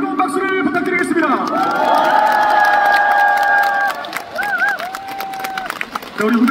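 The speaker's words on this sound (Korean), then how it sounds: "네, 여러분 다시 한번 우리 후배 여러분들께 뜨거운 박수를 부탁드리겠습니다." A crowd of high school students cheers and applauds at a school gathering, with loud, sustained shouting and clapping from many voices, rising and falling, while someone speaks over the noise through amplification.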